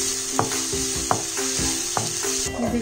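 Onions sauté in a pan for poha, a steady bright sizzle with a low hum beneath and a few sharp spatula taps against the pan at regular intervals.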